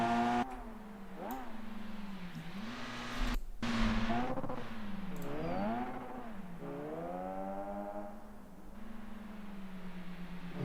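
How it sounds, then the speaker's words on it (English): Rotary-engined Group 5 race car from the Automation racing game lapping the Nordschleife, its buzzing engine note rising and falling through gear changes and revs, heard continuously at moderate level with no talk. "I'm just enjoying Jay's rotary sounds here from afar."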